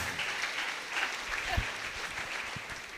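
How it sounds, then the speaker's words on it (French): Audience at a church service clapping: steady, dense applause from a crowd that holds an even level throughout, with no clear voices standing out. "Acclamez très fort."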